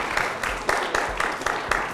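Audience applause on a French-language TV show, a dense, even wash of many hands clapping with a few sharper individual claps standing out, close and continuous with no talk over it.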